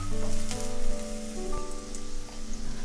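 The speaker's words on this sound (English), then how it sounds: "Once our oil is medium hot, we can add in our green onion roots." Green onion roots stir-frying in medium-hot oil for Chinese fried rice give off a dense, steady sizzle and crackle like rain on a surface, close and fairly loud, with faint tonal hum underneath.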